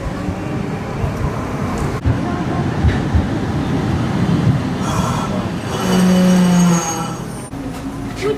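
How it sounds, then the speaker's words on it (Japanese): A Nagasaki street tram running along a road, a steady rolling rumble with wheel and rail noise throughout and a brief squeal near the end, with occasional voices beneath. "電車、路面電車今から"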